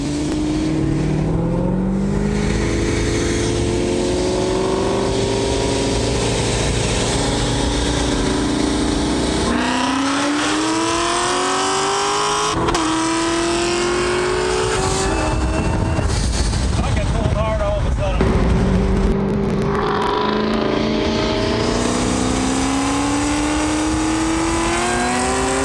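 A C6 Chevrolet Corvette with a newly installed differential is driven hard on a race track, its engine roaring loud and close, revving through rising gear pulls with brief drops between shifts.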